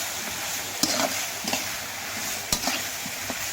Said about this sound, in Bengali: তারপরে আমি লবণ দিয়ে দেব একসাথে দিয়ে আমি নাড়াচাড়া করছি